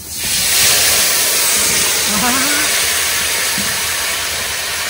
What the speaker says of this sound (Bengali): গরম কড়াইতে এই যে ওল দেখছো, ওল পুড়ে যাবে না তো?